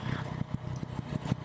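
A 2017 Yamaha FJ-09 (Tracer 900) motorcycle idles in neutral, its engine putting out a low, even run of close pulses for a brief moment.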